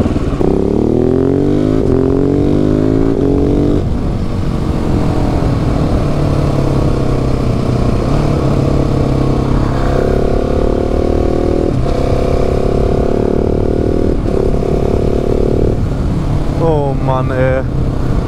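A KTM 690 SMC-R supermoto's single-cylinder engine revs and shifts through gears while ridden, loud and close throughout, with rising and falling pitch sweeps and people talking over it.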